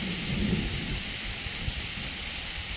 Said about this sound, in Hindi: अब बादल इतना ज़ोर से गरज रहा है जिसकी हद नहीं।